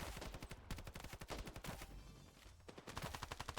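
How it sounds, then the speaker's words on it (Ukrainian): Machine gun fire in the Standoff 2 shooter game, long rapid bursts of dense, evenly spaced shots with a brief lull in the middle before the firing resumes, fairly quiet in the mix. "Оце кулемет"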